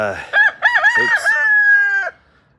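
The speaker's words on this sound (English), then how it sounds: "these roosters are going off this morning" A rooster crows loudly and close by on a farm in the morning, a single long cock-a-doodle-doo that rises, holds, and cuts off, with quiet surroundings.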